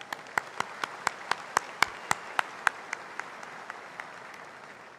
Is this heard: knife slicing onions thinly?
no